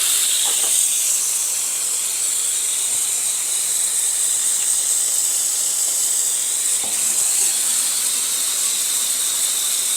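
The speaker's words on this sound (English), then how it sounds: "I've got the hose here just so we can rinse it off." A garden hose sprays a steady, loud stream of water to rinse freshly cut wood, a continuous broadband hiss that holds even throughout without a break.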